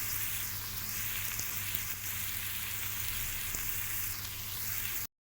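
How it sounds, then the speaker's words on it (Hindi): Minced meat and tomato frying in a pan, a continuous dense sizzle that stays level for about five seconds before cutting off abruptly, with no speech. "तो अब इसको हम हल्का सा फ्राई करेंगे सारी चीज़ों को"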